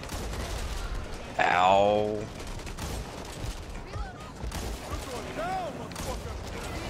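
Gunfire from a zombie shooter in Back 4 Blood rings out in a short, loud burst, with scattered game effects around it and voices talking over the action.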